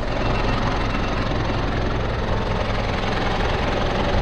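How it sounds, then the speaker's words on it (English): A vehicle engine idles while hitched to a caravan, a close, steady low rumble with a faint knocking vibration that holds constant throughout. "I'll get away from the engine because all you hear is the engine."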